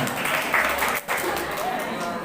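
Crowd applause fills the clip, dense and steady, with voices talking over the clapping.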